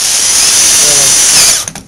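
Close, loud whine of a power drill driving a sheet metal screw into a 2x8 steel frame, one sustained run that cuts off with a short clatter at the end.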